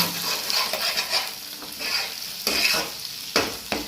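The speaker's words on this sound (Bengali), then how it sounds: "ডিমের সঙ্গে আলুটা ভালো করে নেড়ে চেড়ে নেব।" Potato and egg being stirred in a frying pan: a steady soft sizzle broken by repeated scraping strokes of a spatula, close and moderately loud, with no talk.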